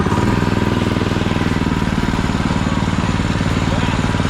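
A mini monster truck go-kart's small engine revs hard and steady under full throttle, a loud, close, pulsing buzz that holds its pitch for the whole stretch without letting up.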